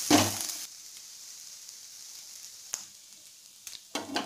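A flipped rava dosa crisps on its second side in a hot pan, a steady gentle sizzle with a few brief clinks and scrapes at the start and near the end.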